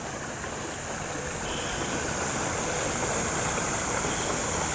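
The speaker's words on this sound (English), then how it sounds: "that water is actually running over" Steady rushing irrigation water pouring over an edge during flood irrigation, a continuous broadband wash that grows slightly louder partway through, with no voices.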